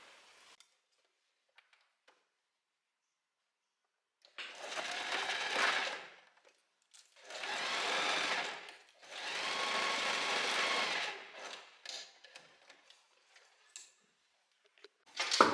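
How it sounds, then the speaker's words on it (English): A sewing machine runs a seam on a wrap dress in three close, steady whirring bursts of a couple of seconds each, with faint clicks and handling noises around them and near-silence before. "And now I'm going to sew from here to over here."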